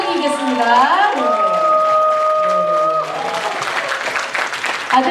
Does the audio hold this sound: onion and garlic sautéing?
no